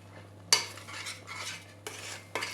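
A spoon stirs a thickening semolina and orange dessert in a pot after vanilla is added, giving three soft scraping, clinking strokes against the pan over a faint low hum, with no talking.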